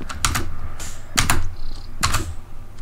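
A computer keyboard is typed on in quick clusters of sharp clicks with short pauses between bursts, close and clear over a faint steady hum.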